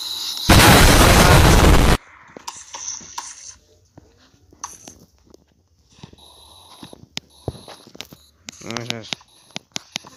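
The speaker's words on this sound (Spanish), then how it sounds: "explosión nuclear" A loud, sudden nuclear blast in a Worms-style worm battle game booms for about a second and a half, followed by quieter game effects, clicks and a brief rapid warbling sound.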